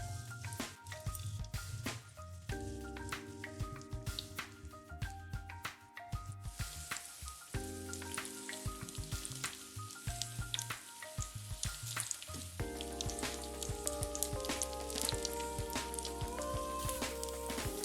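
Pizza cutlets fry in a pan of oil with a steady, close crackling sizzle that carries on for the whole stretch, with faint background music underneath and no talking.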